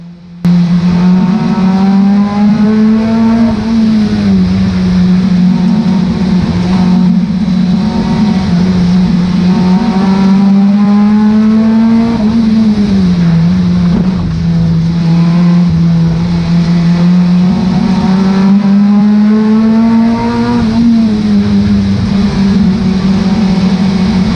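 Stock cars racing at Cowdenbeath Racewall, a loud continuous engine drone that rises and falls as the cars accelerate and ease off through the bends, sustained without a break.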